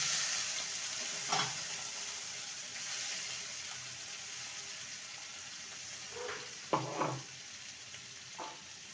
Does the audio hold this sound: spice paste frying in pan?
yes